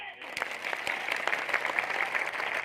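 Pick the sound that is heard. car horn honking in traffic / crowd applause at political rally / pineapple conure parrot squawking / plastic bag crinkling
crowd applause at political rally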